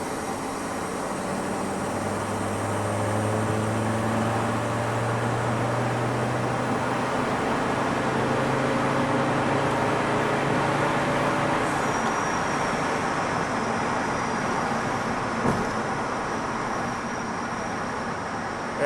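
A VW Transporter T4 2.5 TDI van cruises in fifth gear, its diesel drone and road roar steady and continuous from inside the cab, with a brief knock near the end and no talking.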